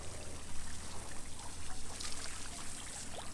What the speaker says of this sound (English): And the girls are out scrubbing the deck